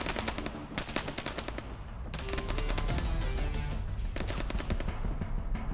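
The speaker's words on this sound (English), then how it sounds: "I hear gunshots and a loud snap" Dense gunfire from an ARMA 3 combat scene, with rapid overlapping shots and sharp cracks rolling into a sustained, loud barrage that hardly lets up.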